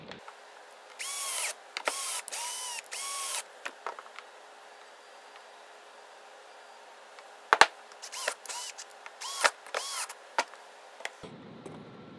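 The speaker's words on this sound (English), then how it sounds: "I'm just going to screw these pieces down" Power drill driving screws into 3/4 inch plywood mounting pieces on a motor mount for a leather sewing machine, several short whirring bursts in two clusters with quiet gaps between, close and fairly loud.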